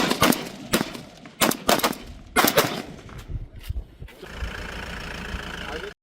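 Gunfire from a Border Security Force position: several sharp, loud bursts in an uneven volley, followed by a steadier mechanical drone, with a voice heard amid the shots.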